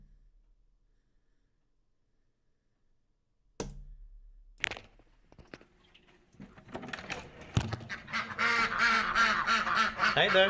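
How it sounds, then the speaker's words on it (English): Ducks quack close by after a few knocks and clatters, building into a loud, busy chorus of overlapping nasal quacks over the last few seconds. "Hi, ducks."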